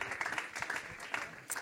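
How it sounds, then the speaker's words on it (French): A fairly faint, brief patter of applause from an audience at a French mayors' conference welcoming a speaker, with voices murmuring alongside. "Vous pouvez l'applaudir"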